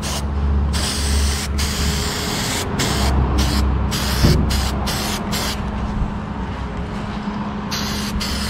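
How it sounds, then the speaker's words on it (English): Rust converter is sprayed from an aerosol nozzle into a vehicle cab's floor area during fabrication work, making a loud, close, steady hiss in repeated bursts separated by brief pauses. "spray his rust converter up in there"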